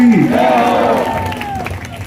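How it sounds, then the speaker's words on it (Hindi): Crowd at a Hindu devotional jagran for Shri Shyam, a brief loud burst of cheering and shouting voices with a rising cry above the crowd, fading over about two seconds. "इतनी जोरदार ताली बता दो कि सोनीपत तक बजानी चाहिए।"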